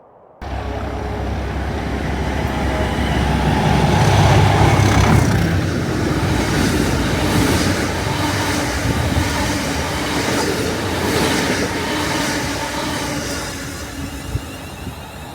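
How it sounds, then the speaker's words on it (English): A Class 37 diesel locomotive passes through Tame Bridge Parkway station, a loud, close rumble with rhythmic clickety-clack of wheels over rail joints, swelling early and gradually easing as it rolls by. "we did get the 37 passing through Tay Bridge Parkway"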